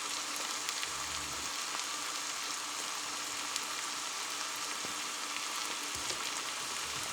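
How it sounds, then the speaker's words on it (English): Sausage patties sizzling on a Presto Tilt-N-Fold XL electric griddle, a steady, close crackling hiss with small pops throughout and no talk. "You can hear it sizzle."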